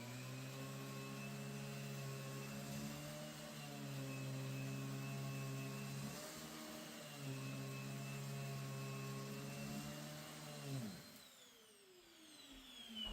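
A Riccar R30 anniversary model upright vacuum running on carpet, a loud steady motor whine with strong tonal hum that dips briefly midway, then winds down sharply near the end.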